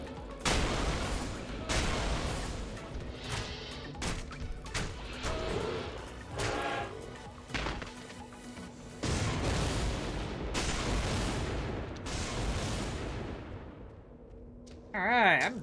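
Chain lightning spells in the Torchlight action game crackle and burst again and again, loud broadband blasts close together with short gaps, a dense run of electric impacts.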